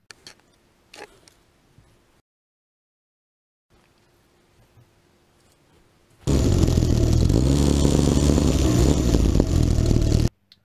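A tiny homemade mini go-kart engine fitted with a chainsaw carburetor, running with a loud, buzzing, steady drone for about four seconds after quiet clicks and handling noises.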